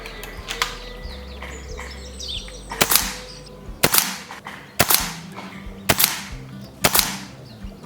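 Sharp pops from an air gun firing 22 grain JTS pellets at a target, about six distinct shots spaced roughly a second apart after a quieter stretch with faint bird chirps in the background.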